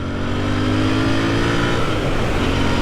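Brand-new 2021 Royal Enfield INT650 motorcycle engine revving hard and steadily rising in pitch, loud and close, with no talk.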